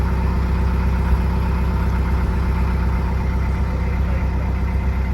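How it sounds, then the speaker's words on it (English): A boat engine idles close by, a steady low throbbing rumble that holds even and loud throughout, with no voices. "boat's revved up"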